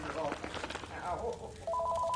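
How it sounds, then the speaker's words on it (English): A telephone rings in the video game Accounting+ with a short electronic tone at the end, under a man's exclamations and laughter. "Uh, oh, it's the phone. Where's the phone?"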